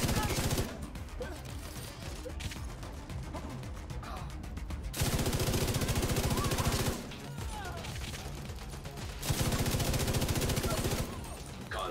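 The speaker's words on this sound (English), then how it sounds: "that gun's still firing" Sustained automatic gunfire rattles in The Division 2, loud bursts of rapid shots alternating with slightly quieter stretches of firing across the whole span.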